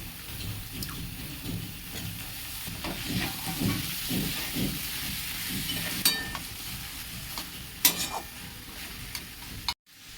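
Thin-cut potatoes and washed chickpeas stirred while frying in a pan for a katla fish head dish, a moderate sizzle with repeated scraping stirs and a few sharp utensil clinks.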